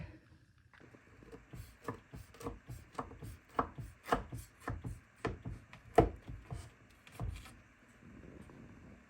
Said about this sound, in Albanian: E bojna prerjen.